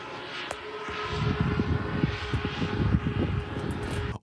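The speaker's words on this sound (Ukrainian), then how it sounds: "зараз фактично десь стрілянина, ймовірно, збивають ворожий дрон" Rapid bursts of distant gunfire, aimed at an enemy drone, crackle over a steady drone of an aircraft engine overhead, with repeated sharp reports from about a second onward.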